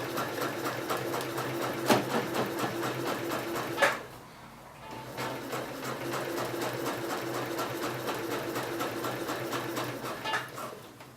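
A sewing machine runs steadily, stitching the back pocket seam on a pair of trousers, with a brief pause midway before the rapid mechanical whirring resumes, close and clear.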